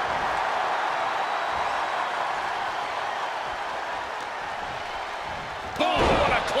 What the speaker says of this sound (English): The sound of this crowd is deafening, and he's asking for more.